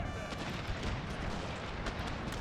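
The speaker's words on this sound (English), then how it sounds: "There's where we'll send cannons, and we'll use them to fire canister." Cannons firing canister shot in a Total War video game set in the Thirty Years' War: a dense, continuous roar of booming volleys and crackling gunfire that fills the whole stretch.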